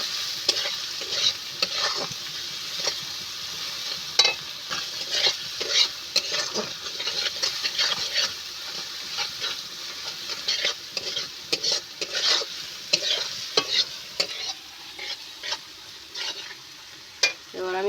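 Banana flower curry cooking in a pan with salt, turmeric and chilli, heard as a soft sizzle broken by frequent scraping and stirring strokes of a spatula in an uneven, busy rhythm, close and with no talking.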